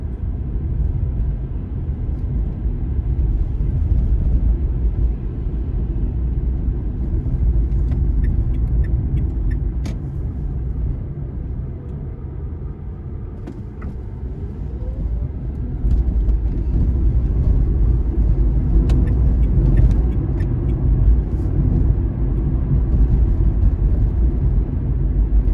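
A Dacia Spring electric car drives out of Paris, giving a steady, close cabin rumble of road and tire noise that dips briefly midway, with faint clicks and no speech.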